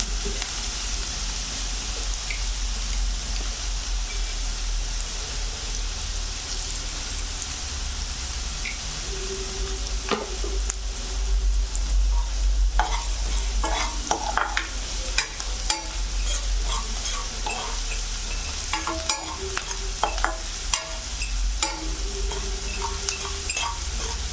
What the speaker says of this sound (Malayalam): സവാള നന്നായിട്ടൊന്ന് വഴന്ന് കിട്ടുന്നതിന് അല്പം ഉപ്പ് ചേർത്ത് കൊടുക്കാം